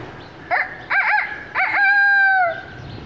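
A rooster crows close by in the walled city of Lahore, with a few short rising calls leading into one long, drawn-out crow, and quiet in between.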